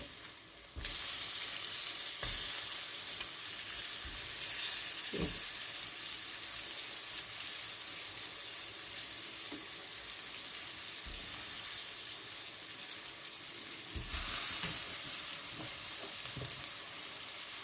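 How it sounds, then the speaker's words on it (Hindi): Tomatoes frying with spices for a fried maash and chana dal, a continuous close sizzle with occasional utensil knocks and scrapes, and no talking. "ये टमाटर शामिल कर दें इसमें, और इसको मसाले के साथ ही भून लें।"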